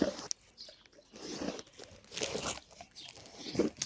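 Quick crunching and biting as someone eats dill and garlic pancakes, a fast run of close, crisp bites and chewing in short bursts, with a faint voice in the background.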